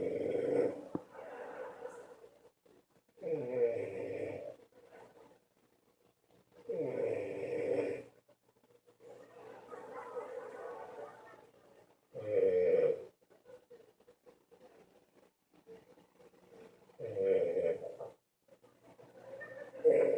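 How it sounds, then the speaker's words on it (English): A French bulldog snores in slow, regular, rasping bursts, each lasting about a second or two and repeating every few seconds, close and clear with quiet breaths between. "Okay, let's check out his snoring."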